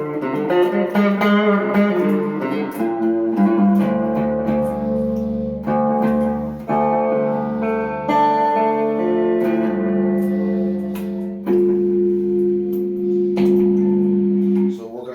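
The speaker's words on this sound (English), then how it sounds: "Turn on some echo and some reverb." Electric guitar played through a rig with compressors, echo and reverb switched on, sustained chords and notes ringing out with repeating echoes and a wide reverberant wash, loud and continuous with no talking.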